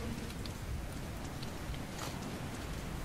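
Rain falling in the video game Metro Last Light: a steady, dense hiss of downpour with scattered faint drip ticks, continuous and even throughout, with no voices.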